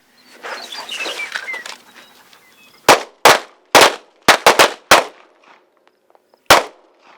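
Sharp, loud pistol shots from a Guardian 6 defensive pistol, seven quick reports in an uneven burst with short gaps between them, following a stretch of fluttery movement noise.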